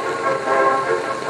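An M131.1 diesel railcar coasts toward a stop, giving a brief, steady rolling hum with a faint tonal ring throughout.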